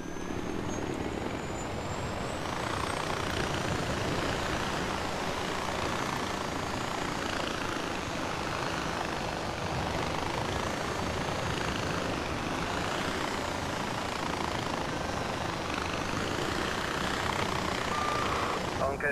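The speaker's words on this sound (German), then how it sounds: "Gyrokopter! Ich liebe dieses Ding einfach." A gyrocopter flying in Far Cry 4, its engine a steady broadband drone with rotor wash that holds at an even level throughout, no pauses or breaks.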